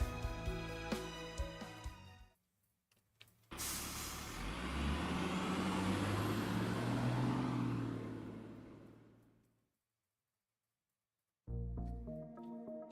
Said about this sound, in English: I feel like we have been on this bus for way too long.